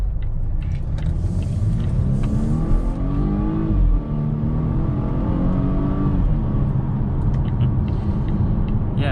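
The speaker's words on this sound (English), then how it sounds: "let's go ahead and do another acceleration right here and see how this Volvo does" A 2021 Volvo V60 station wagon accelerating, heard from inside as a loud, steady engine drone whose pitch climbs through gears, with a brief dip near the shift before rising again.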